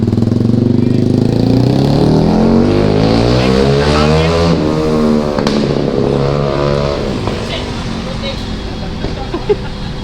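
Motorcycle and car traffic rolls along a street in Cebu near Casco Market, engines rumbling and revving loudly and close throughout, with people talking over it.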